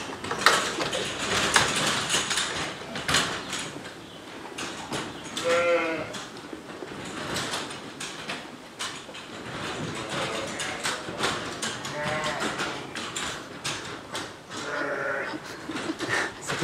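A flock of ewes bleats as feed mats are opened on a farm in Lourdios-Ichère, Pyrénées-Atlantiques, with scattered calls over constant shuffling and clatter, some close and some farther off.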